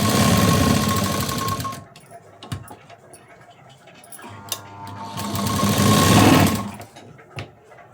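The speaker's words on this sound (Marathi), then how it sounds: "आता परत हा भाग असा उलटा करून घेतला आणि आता कडेला शिलाई द्यायची" An electric sewing machine stitching along the edge of a sleeve, two loud whirring runs separated by a quieter pause with handling clicks, close to the listener.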